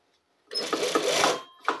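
A twin-needle coverstitch machine sews bias binding in one short burst of nearby machine whirring with a few rhythmic stitch pulses, starting after a brief silence and cut off by a final quick burst.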